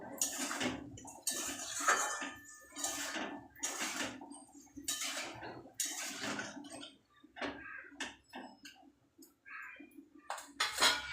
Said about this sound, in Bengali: আর দিয়ে দেব হলুদ গুঁড়ো ভালো করে নাড়িয়ে নেব